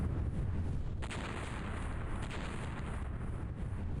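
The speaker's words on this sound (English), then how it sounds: "I heard a lot of explosions." Repeated booming explosions in the X-COM: Apocalypse video game, several sharp blasts in quick succession over a rumbling background, fairly loud with no talk.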